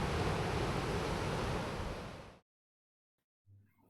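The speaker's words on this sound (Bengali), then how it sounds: "আর ঢেউয়ের আওয়াজ দেখুন" Surf at Digha beach, with a casuarina grove nearby, gives a full, hissing rush of breaking waves that cuts off abruptly to silence midway, followed by a brief low thump near the end.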